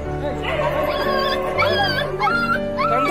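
A rescued puppy whimpers and yips in a string of high, wavering cries over a steady background. Voices can be heard at the same time.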